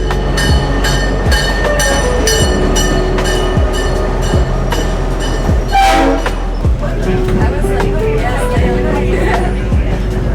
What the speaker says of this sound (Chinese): 我们再次乘坐小火车返程。